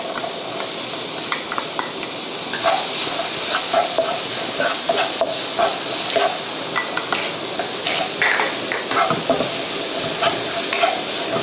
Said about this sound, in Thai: พอผงกะหรี่หอมได้ที่เนี่ยเราก็เอาหัวหอมเนี่ยใส่ลงไปผัด